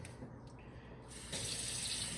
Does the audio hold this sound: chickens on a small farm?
no